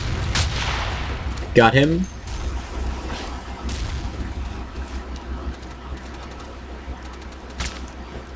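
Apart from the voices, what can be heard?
gunfire in a video game (Battlefield 2)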